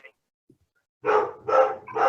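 A dog barks three times in quick succession, close and fairly loud, with no other sound around it.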